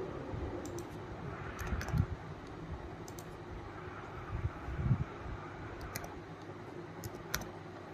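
Computer mouse and keyboard clicks at a desk, several faint sharp ticks scattered irregularly over a quiet background hum.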